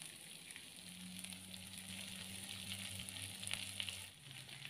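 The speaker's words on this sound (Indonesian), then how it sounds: "Lalu kita aduk-aduk lagi agar tercampur rata bumbu dan daging ayamnya." Shredded chicken and spices sizzle in a frying pan as they are stirred, a steady close hiss of frying with soft scraping and clinks from the stirring, no talking.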